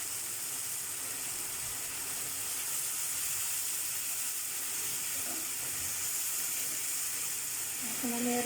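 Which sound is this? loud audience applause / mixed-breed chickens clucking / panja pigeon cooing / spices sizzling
spices sizzling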